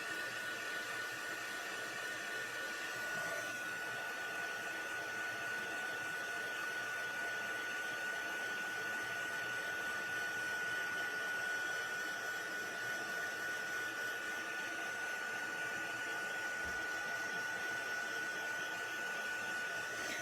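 A heat tool blows a steady, whooshing hot-air roar with a faint high whine while heating embossed cardstock, constant and close for the whole stretch with no talking.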